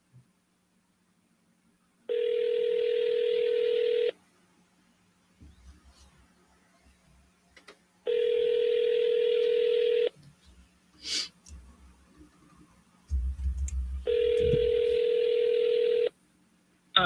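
A telephone rings out while calling a seller, giving three evenly spaced two-second tones with faint handling noise between them.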